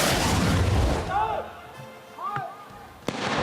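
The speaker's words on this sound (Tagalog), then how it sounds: "Nagkapira-piraso ang pakwan na ito matapos pasabugin gamit ang paputok na Goodbye Earth na naglalaman ng 120 grams ng pulbura." An illegal Goodbye Earth firecracker packed with 120 grams of powder detonates and bursts a watermelon, heard as a loud blast at the start and a sharp crack near the end, with quieter squeaky sounds between.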